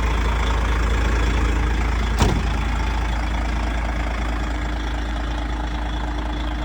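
DAF XF105.460 truck engine idling smoothly, a deep steady low rumble close by with one brief click partway through, no speech.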